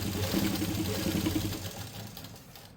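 Sewing machine stitching rib onto shirt fabric, a close rapid mechanical chatter that holds steady, then fades as the machine slows toward the end, no talk.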